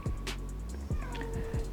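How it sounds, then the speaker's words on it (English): A cat meows repeatedly outdoors, several drawn-out, fairly close calls over steady background noise from the open air. "I got a cat out here. I don't know if y'all can hear that."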